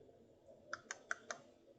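Typing on a computer keyboard, four quick faint key clicks in a short run, quiet and close, with no talking over them.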